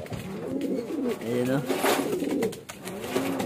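Pet pigeons coo repeatedly in low, throaty, rolling calls, close by and overlapping, while someone talks briefly over them.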